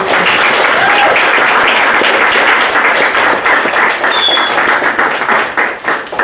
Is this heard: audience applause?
yes